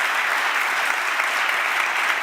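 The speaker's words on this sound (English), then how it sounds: "please give them a big round of applause" An audience at an award ceremony claps for the jury in loud, dense, continuous applause that carries on evenly throughout, with no voices standing out.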